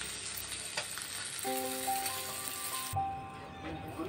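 Olive barb fish frying in hot oil, a steady close sizzle with a faint tonal hum in the middle, and a brief clank near the end.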